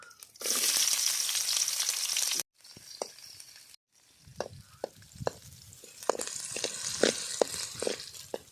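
Cinnamon and onions drop into hot oil, a loud bright sizzle bursting at once, then after a short break a softer frying crackle with scattered clinks and scrapes of a spoon stirring the pan.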